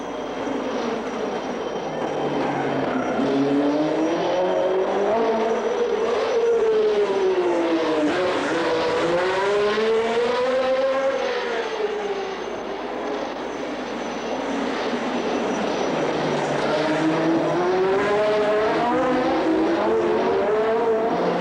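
1969 Formula 1 race cars racing around the Monaco street circuit, loud high-revving engines rising and falling in pitch as cars pass through corners in a continuous roar.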